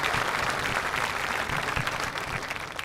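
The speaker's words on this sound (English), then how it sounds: "Can we give Aaliyah a round of applause?" A senior awards ceremony audience claps in loud, dense, continuous applause that holds steady throughout, with no talking over it.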